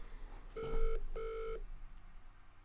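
A video game telephone rings for the phone-a-friend lifeline, two clear electronic rings with a short gap between them, heard alone over a quiet background.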